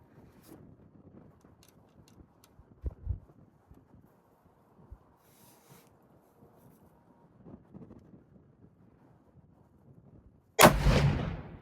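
A Ruger American Predator rifle fitted with an EC tuner brake and firing 123-grain hollow-point boat-tail rounds lets off one sharp, loud report near the end, after a stretch of quiet wind and faint handling noise.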